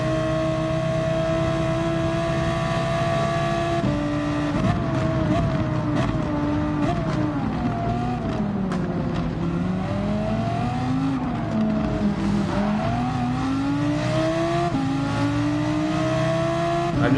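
An Audi race car roars through a racing video game with a loud, continuous engine drone whose pitch rises and falls through gear shifts. Other cars' engines blend in close by throughout.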